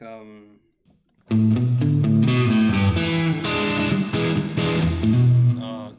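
Electric guitar with heavy reverb giving an echoey wash, strummed chords ringing out loudly and steadily after a brief quiet start with a soft voice.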